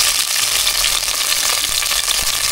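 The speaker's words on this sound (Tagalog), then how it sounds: "gisa po muna natin yung ating mga pang-aromatics" Aromatics and onion sauté in a hot pan indoors on a rainy day, producing a loud, dense sizzle that crackles steadily throughout with stirring underneath and no voices.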